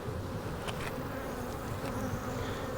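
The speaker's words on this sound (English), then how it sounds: "There's a lot of bees in this hive." Honey bees swarm over the frames of an open, heavily populated hive, producing a dense, continuous buzzing close by with no talk.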